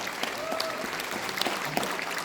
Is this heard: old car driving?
no